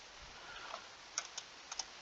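Quiet, brief computer keyboard typing: a few soft taps followed by several sharper, close key clicks at irregular intervals over a faint room hiss.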